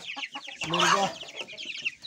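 A hen clucks in short, rapid bursts close by, rising into a louder squawk midway before settling back into soft clucks.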